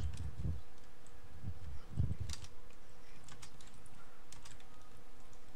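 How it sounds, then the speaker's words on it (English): Computer keyboard typing during an online hockey game, heard as a steady run of soft clicks with a few louder low thumps near the start, alone without voices. "Can you tell Hijack to quit typing while on the ice?"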